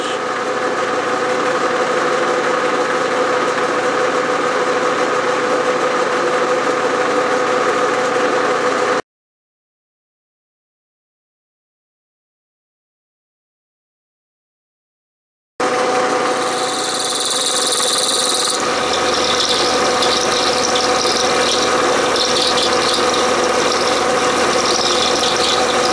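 A Bridgeport milling machine cuts T-nuts, taking a 75-thousandths depth in a single pass, with a loud, steady grinding hum that drops to silence for several seconds before resuming, brighter and harsher.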